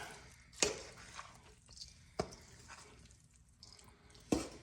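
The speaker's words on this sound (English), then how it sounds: "We'll just start stirring." A spoon stirs cornbread dressing moistened with chicken broth in a big bowl, giving soft wet squelches and three sharp scraping clacks against the bowl, close and quiet, with no talking.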